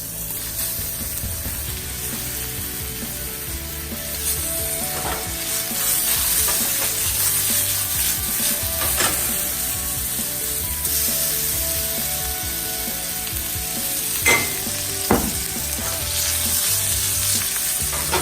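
Pork loin and star fruit fry together in a pan, giving a steady, close sizzle that runs throughout, with occasional utensil clicks and stirring bumps.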